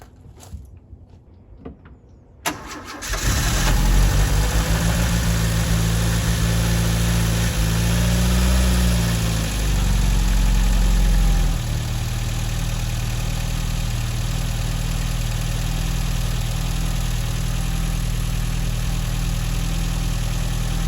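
An mk1 Vauxhall Astra with a new fuel filter and a repaired choke flap cranks briefly after a quiet moment, then catches and settles into a loud, steady idle. The idle swells midway before dropping back.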